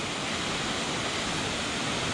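Lima-Lima waterfall in North Sumatra, Indonesia, about 20 metres high, pours in a steady, loud, broadband roar of rushing water that holds constant throughout, with no voices.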